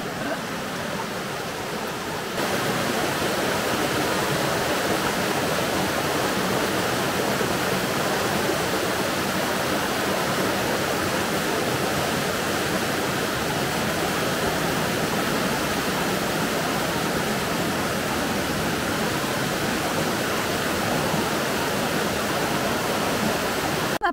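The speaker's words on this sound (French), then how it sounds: "tu as vraiment les parois très rapprochées, les petites cascades et tout" Small waterfalls rush through a narrow canyon with close-set rock walls, a steady broadband splashing roar that rises after a quieter opening moment and then holds constant throughout.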